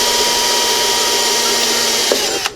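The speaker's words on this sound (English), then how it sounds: "as it's drilling into the plastic, it catches part of that material and it spills" A power drill bores into plastic during a garage electrical upgrade, a loud continuous whirring motor drone that slows near the end, with a couple of brief knocks as the bit finishes.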